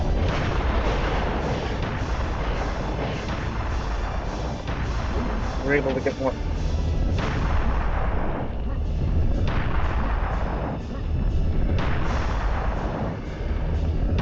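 Cannon fire in the video game Serious Sam: The First Encounter sounds as repeated heavy booms and blasts over dense battle noise. Someone talks over the gunfire.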